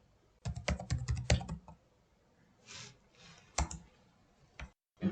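Someone types on a computer keyboard while searching for an online C compiler: a fast burst of clicking keystrokes, a pause with soft rubbing, then a few isolated key presses, close and alone.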